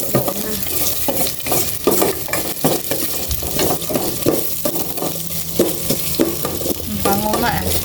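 Ginger is stirred and fried in a pan, with a continuous sizzle and repeated scraping stir strokes in an uneven rhythm, close and fairly loud.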